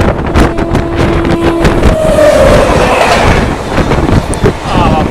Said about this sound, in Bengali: সামনে ব্যাক টু ব্যাক আরেকটা এক্সপ্রেস ট্রেন আসছে দ্রুত গতিতে।